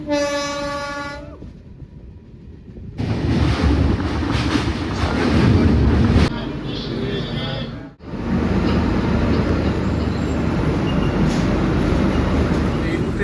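A train horn sounds, then a heavy, steady rumble of the Kolkata–Agartala Garib Rath Express at Kolkata station fills the air, loud and close, heard from inside a coach.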